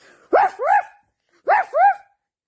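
Two short double barks, each a quick pair of yips, sound close by with a pause between them; they may be a voice imitating a small dog.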